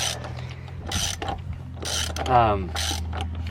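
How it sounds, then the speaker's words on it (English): Ratchet wrench tightening the hub nut on a wheel bearing hub assembly, heard as a few short bursts of close, loud clicking separated by brief pauses. "Just have to finish tightening this nut down."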